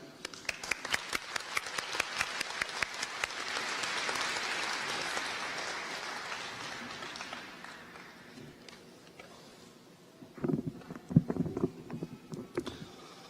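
Audience applause at a 2019 university commencement ceremony, a swell of many hands clapping that builds then slowly fades, followed by a few closer, louder claps and thumps.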